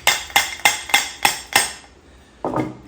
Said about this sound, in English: Sometimes you need a little hammer to put these together.